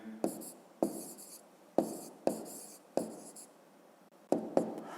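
A pen writes answers on paper in a series of short, crisp scratching strokes, each starting sharply and then trailing off. About seven strokes come at an uneven pace, close and quiet.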